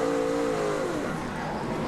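Race cars circling the track in a NASCAR Nationwide Series race at Memphis in 2009, a dense continuous engine roar with a falling pitch sweep as a car passes close by.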